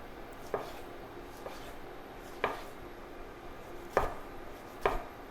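A somewhat dull kitchen knife chops vegetables on a cutting board: five sharp, separate knocks at irregular intervals stand out over a quiet room, close and clear, with no one talking.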